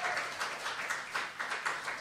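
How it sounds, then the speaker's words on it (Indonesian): A church congregation at a worship service claps steadily in a dense, rhythmic wave of many hands, moderately loud and sustained with no talking over it. "Tepuk tangan buat Tuhan Yesus"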